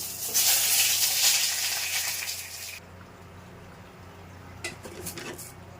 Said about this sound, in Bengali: সিদ্ধ করা আলুগুলোকে আগে ভেজে নিচ্ছি।